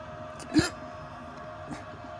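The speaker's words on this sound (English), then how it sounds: "Got the hiccups." A single sharp hiccup rings out, then a fainter second one follows about a second later against a quiet room background.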